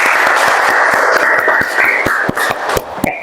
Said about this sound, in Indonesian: Berikan aplaus kepada Fadlia.